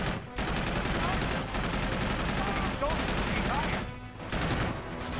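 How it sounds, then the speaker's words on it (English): Sustained automatic fire from a mounted gun in the video game Uncharted 2, loud and continuous rapid bursts with brief pauses, mixed with battle noise. "let me take control of this here gun"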